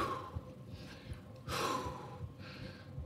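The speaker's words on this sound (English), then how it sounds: "take a deep breath. Get the oxygen back into your system." Deep, heavy breaths after a total-body dumbbell workout, slow inhales and exhales close by and fairly quiet, with one stronger breath in the middle.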